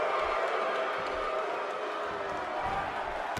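Steady arena crowd noise in a WWE 2K18 NXT wrestling match, a continuous broad roar with a few low thumps, holding level throughout.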